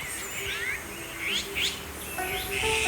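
Birds call with a string of short chirps and rising whistled notes in the morning in Korea, close and moderately loud, with a steady background hum and no talk.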